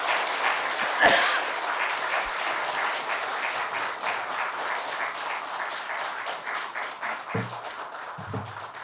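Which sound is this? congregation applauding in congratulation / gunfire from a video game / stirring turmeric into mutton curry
congregation applauding in congratulation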